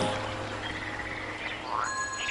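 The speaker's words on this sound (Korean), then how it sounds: "겨울잠에서 갓 깨어난 개구리의 개구진 울음소리" Frogs just out of hibernation croak softly in a steady spring chorus over a low, constant background hum.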